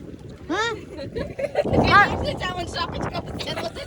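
A motorboat passes out on the sea, its engine rising and falling as it goes by, partly covered by someone talking up close and by wind noise.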